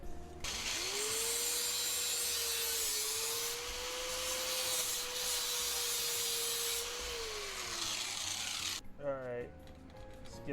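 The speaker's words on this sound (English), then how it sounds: "Let's get the angle grinder out again." An angle grinder working sheet metal, a loud steady whine holding for about eight seconds before spinning down, then brief scraping and clatter after it stops.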